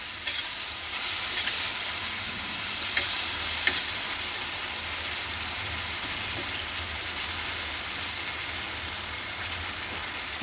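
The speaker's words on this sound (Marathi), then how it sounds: "हा गूळ आता आपण थोडा मिक्स करून घेऊ." Organic dark jaggery stirred into cooked raw mango chatka in a hot pan, with a continuous close sizzle and a few soft scraping stirs and taps over about ten seconds, no talk.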